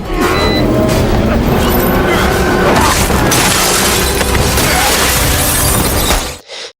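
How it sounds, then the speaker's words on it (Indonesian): Loud glass shattering as a character crashes through a window in an action film, a dense sustained burst of breaking and scattering shards lasting several seconds before cutting off abruptly. "segera menerobos kaca"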